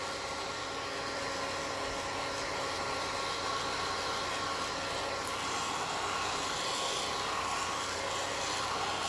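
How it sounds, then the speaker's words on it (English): A blow dryer blasts steadily over wet watercolor paint on a feather painting, a constant loud whooshing whir that runs unbroken throughout. "blowing with the blow dryer"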